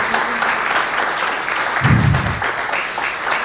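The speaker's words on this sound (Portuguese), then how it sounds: "Podemos dar uma salva de palmas a eles." A round of applause fills a church during a Sunday service, steady clapping from the congregation with a brief low thump partway through.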